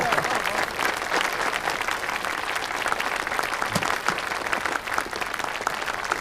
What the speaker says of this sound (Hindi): ऑफिसर के लिए तालियां।